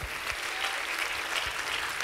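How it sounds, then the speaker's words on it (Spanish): Church congregation applauding, a soft, even patter of many hands heard from a distance, with a few low thumps underneath and no talking. "La gente aquí le da un aplauso al Señor otra vez"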